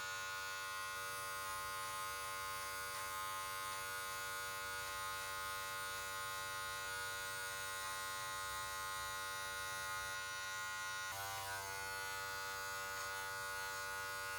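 Electric hair clippers hum steadily during a self haircut, a constant close mechanical buzz with a slight shift in tone near the end as the blade moves through hair, no talking.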